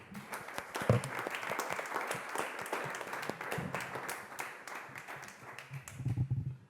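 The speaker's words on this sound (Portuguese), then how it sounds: "uma salva de palmas para o Zé" Applause from the audience at an international urban art conference talk, many hands clapping in a steady moderate wash, with a few low voices surfacing near the end.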